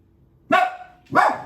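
Two loud, close barks from a dog indoors, about half a second apart, with nothing else audible.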